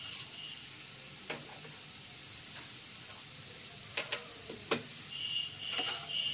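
Dry chilli powder and a little sugar frying in hot oil with green chillies in a pan: a steady, soft sizzle runs throughout, with a few sharp crackles and spoon clicks near the end.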